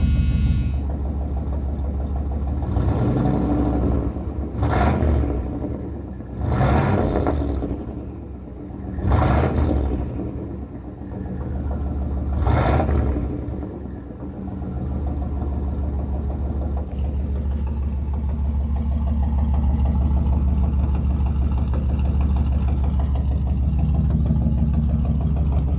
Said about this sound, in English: Now this is how a properly set up 301 turbo should start when it's fully warmed up